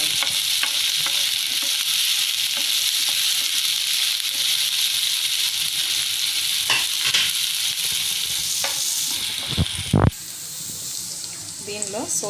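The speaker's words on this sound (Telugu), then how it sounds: "తర్వాత ఆనియన్స్, పచ్చిమిర్చి వేసుకొని కలుపుకోవాలి." Onions and green chillies frying and being stirred in a pan for gobi manchurian, a steady close sizzle with scraping stir strokes and a brief clatter near the end.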